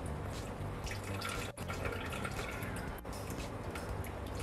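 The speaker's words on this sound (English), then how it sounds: "I need to add in about 90 grams of water" Water poured from a container into a bowl of glutinous rice flour while preparing muah chee, a steady faint trickle and splash with a couple of brief breaks.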